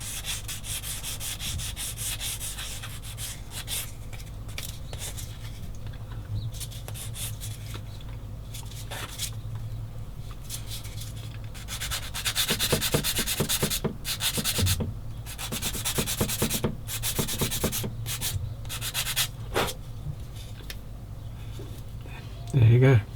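A cut-off part of a 1/35 Bronco Mk XXIII submarine plastic model kit, the conning tower piece, is sanded clean with steady scratchy rubbing strokes that grow denser and rougher toward the end, with a voice talking at times.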